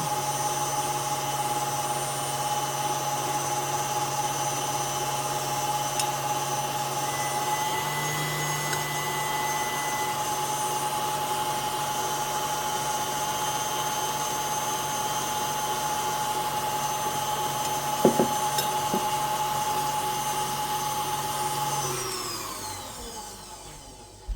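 An electric mixer whips egg whites for cloud cookies with a continuous high motor whine, steady and close, with a brief clatter near the end before the motor winds down and stops.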